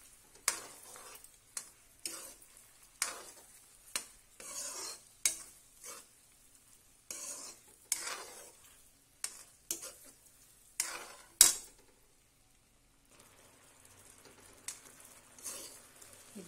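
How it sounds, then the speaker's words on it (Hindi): Karonda berries cooked in a pan and stirred with a spoon, producing a series of rhythmic scraping strokes over a soft sizzle, close up, then a quieter stretch near the end. "अब इसको चम्मच चलाते रहते हैं।"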